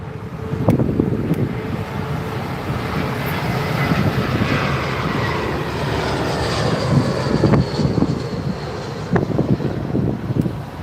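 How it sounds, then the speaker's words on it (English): A British Airways Airbus A319 landing at London Heathrow on runway 27R, a steady broad engine roar with wind buffeting the microphone, loud and sustained throughout with a few sharp gusts. "here's a British Airways A319"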